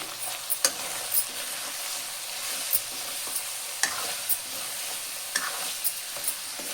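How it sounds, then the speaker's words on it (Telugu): Masala spices sizzle in a pan for a spicy mutton and drumstick curry, a constant frying hiss broken by repeated scraping stirs of a spoon against the pan, close and without speech. "ఇప్పుడు ఈ మసాలాలన్నీ పచ్చివాసన పోయే వరకు వేయించుకున్నామండి."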